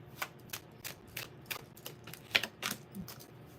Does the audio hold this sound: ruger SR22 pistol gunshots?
no